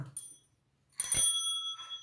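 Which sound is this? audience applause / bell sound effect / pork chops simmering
bell sound effect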